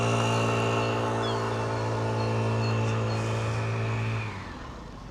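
A car engine revs hard and holds high, likely spinning a tyre, on the west end of Folkestone near the harbour; the loud, steady roar stays close and then drops off sharply near the end, with no talk.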